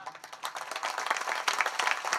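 An audience at a kirtan gathering claps, a quiet patter of many hands heard from a distance, irregular and continuous.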